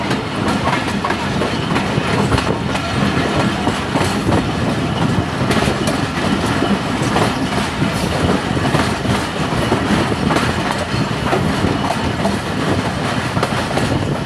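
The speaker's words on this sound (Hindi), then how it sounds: "ये यहाँ से आती है सियालकोट एक्सप्रेस" Sialkot Express train passing close by on the line near Lahore Junction, a loud, steady roar of railcars with rhythmic clickety-clack of wheels over rail joints running through the whole stretch, no voices.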